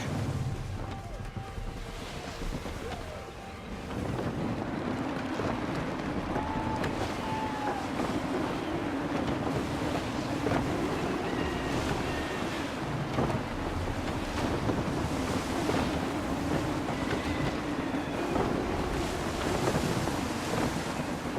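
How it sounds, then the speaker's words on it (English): Steady gusting wind and rushing ocean waves surround a sailing ship at sea in Assassin's Creed 3, a continuous dense roar with hull and water wash, constant throughout with no talking. "Gusty winds can be difficult to manage."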